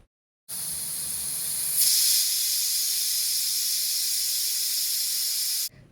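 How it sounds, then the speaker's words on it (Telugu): A pressure cooker boiling peanuts lets out a continuous loud hiss of escaping steam that swells briefly, then holds steady before cutting off. "ప్రెషర్ కుక్కర్ మూత పెట్టుకొని 3 విజిల్స్ వచ్చే వరకు కుక్ చేసుకోవాలి."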